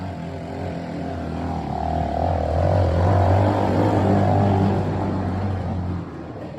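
A mini Jeep drives through snow at night, its small engine giving a steady droning hum that swells slightly in the middle and eases toward the end, heard alone without voices.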